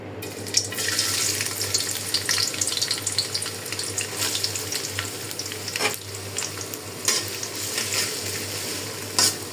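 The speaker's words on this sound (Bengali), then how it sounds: "মুরগির জন্য কড়াইতে পেঁয়াজ দিয়ে দিই।" Onions frying in a wok for chicken curry give a continuous crackling sizzle, broken by scraping stirs and occasional louder pops, with a faint low hum beneath and no talking.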